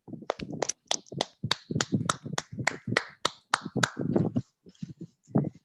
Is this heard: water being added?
no